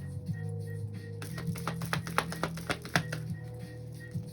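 A deck of tarot cards being shuffled by hand gives a quick run of soft, crisp flutters and taps over a faint steady hum, quiet and close.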